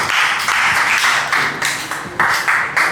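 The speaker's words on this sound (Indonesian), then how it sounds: "Beri tepuk tangan untuk kelompok 1." Classmates clap for a student group in an Arabic-language classroom, bursts of brisk, fairly close hand claps arriving in uneven rhythmic waves, with no talk over them.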